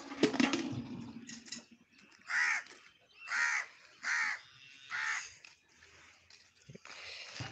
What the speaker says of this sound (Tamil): மேலே வந்து காக்கா கத்திகிட்ருக்கு.